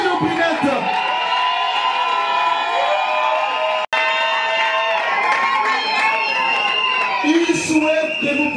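Wedding party crowd at an evening dance celebration in Kinshasa shouts and cheers loudly and continuously, with amplified voices and music-like tones mixed into the roar.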